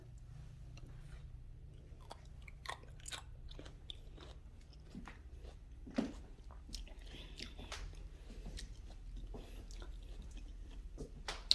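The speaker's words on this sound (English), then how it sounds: "These are good crunchy grapes." Crunchy grapes are bitten and chewed close up, giving a series of soft irregular crunches and wet squishes over a low room hum, with no talk during the chewing.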